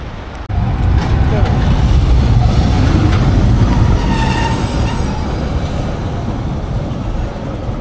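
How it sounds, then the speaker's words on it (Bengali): Interior of a train departing Roma Termini, a loud steady rumble of wheels and carriage with faint squeals and creaks, continuous and close from start to end. "ফাইনালি ট্রেনে উঠলাম রোম টার্মিনি থেকে।"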